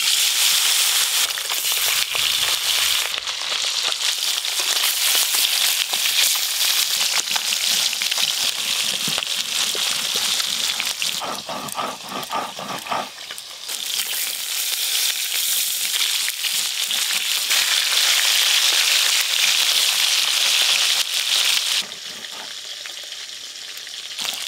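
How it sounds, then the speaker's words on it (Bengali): Fish from a home pond frying in hot oil with mustard and green chillies, a loud, dense sizzling and spattering that continues throughout, dipping briefly midway as pieces are moved or turned. "এবার মাছগুলো ভাজবো।"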